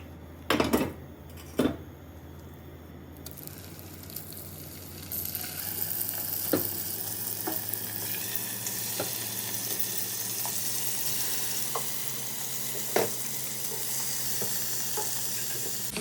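Meat dropped into a hot pot in a home kitchen sets off a loud, steady sizzle and hiss, with a few knocks from a wooden spoon stirring it at the start.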